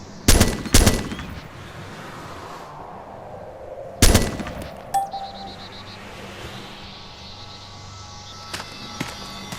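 Rifle shots on a shooting range in the military video game Arma 2: a quick close double report, another sharp shot about four seconds later, then a fainter pop, with a low ambient hum and ringing tail between.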